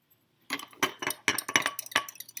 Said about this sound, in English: Stir, stir, stir, stir,